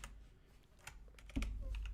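Someone types on a computer keyboard in quiet, scattered clicks, with a louder low thump toward the end.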